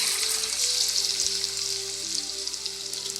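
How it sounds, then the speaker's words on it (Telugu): Curry leaves crackle and sizzle in hot oil with the stove switched off, cooking for a grated mango pickle; a steady, bright frying hiss runs throughout, close by and without talk. "కర్రీ లీవ్స్ వేసుకున్నాము. ఆ వేడికి అవి ఫ్రై అయిపోతాయి."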